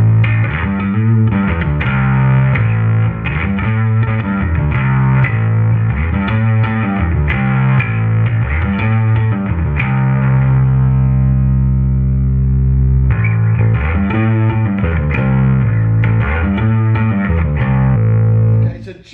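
Bass guitar played through a Darkglass Alpha Omega distortion pedal with blend at full and no clean signal, a heavy, fuzzy riff repeating steadily and loudly, brief pause near the end.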